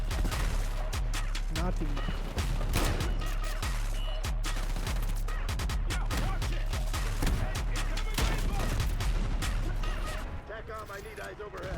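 Gunfire from the Essex Model 07 rifle in Black Ops 6, a rapid run of sharp close shots with more distant gunfire in a busy multiplayer match, under brief talk.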